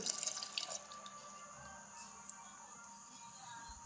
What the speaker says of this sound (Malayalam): തിളപ്പിച്ച് വെച്ച പാല് നമ്മൾ ആ പായസത്തിനകത്തായിട്ട് നമ്മൾ ഒഴിക്കുകയാണ്.